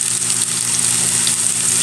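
Garlic and onion sauté in a hot pan with a steady, even sizzle that stays close and continuous, with no talking over it.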